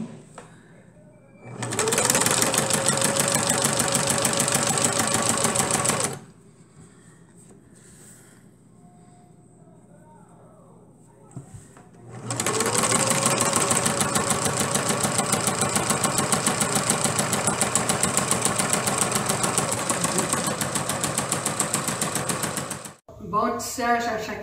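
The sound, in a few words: sewing machine sewing a woven dish towel hem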